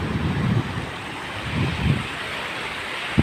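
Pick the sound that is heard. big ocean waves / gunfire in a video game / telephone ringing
big ocean waves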